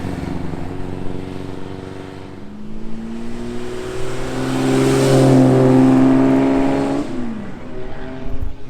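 A green Ford Mustang at a classic car rally drives past with a throaty engine note that rises to a loud peak as it nears, then fades as it pulls away.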